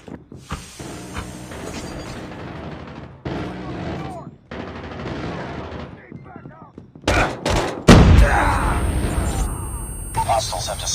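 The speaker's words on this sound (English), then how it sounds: "Be advised, hostile sentry gun spotted." Automatic sentry gun in Call of Duty Mobile's undead attack mode fires repeated bursts, loud and close, mixed with other gunfire, hissing and game effects, with talk present throughout.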